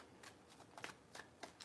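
Tarot cards being shuffled close up, quiet crisp riffling bursts repeating in a loose rhythm of about six short rustles, with no voice.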